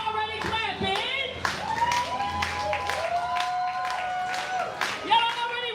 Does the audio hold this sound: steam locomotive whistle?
no